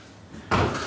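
A door in a home's master bedroom, leading to the closet, shuts with a single solid thud halfway through, after a quiet stretch of room tone.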